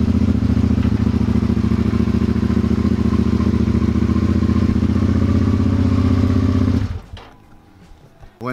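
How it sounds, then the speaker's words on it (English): A 2006 Suzuki SV650S motorcycle after new ignition, spark plugs and air filter, with its engine loudly churning and running in a steady close drone before abruptly cutting off near the end. "now we got our first attempt to starting it with the new key and ignition and plugs and air filter"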